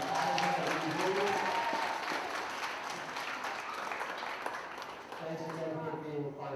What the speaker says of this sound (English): one last round of applause, thank you to our wonderful guest judges from Pfizer and Invention